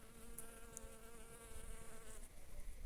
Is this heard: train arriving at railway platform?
no